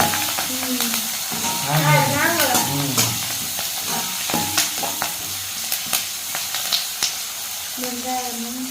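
Onion frying in a pan while being stirred, a loud steady sizzle broken by repeated scraping taps of the spoon, with people talking and a voice rising over the cooking at times.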